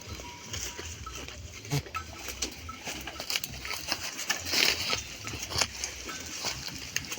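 Goats bleat here and there amid soft rustling and shuffling on a goat farm in Nepal, with scattered clicks and faint bird sounds.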